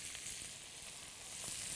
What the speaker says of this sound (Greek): ξεκινάμε να βάζουμε ένα-ένα το κοτόπουλο μέσα, είτε βαθύ τηγάνι, είτε μια βαθιά αντικολλητική κατσαρόλα